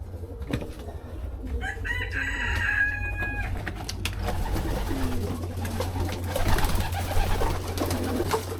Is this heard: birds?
yes